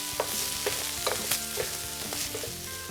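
Fish kebabs sizzle and fry in a hot pan, a steady close crackle with small pops and stirring scrapes throughout, no talking.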